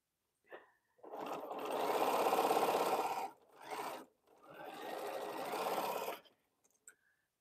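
Sewing machine stitching quilt pieces for a Crown Royal quilt, two clear runs of fast even motor whirring separated by a short pause and brief stops, close and steady with no voices.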